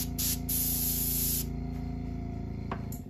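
A Master G266 airbrush sprays paint in a steady, close hiss of compressed air, easing slightly after the first second and a half while a faint hum continues underneath.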